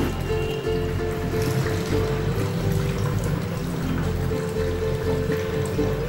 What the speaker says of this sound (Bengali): আমি এতে জলটা ঢালছি।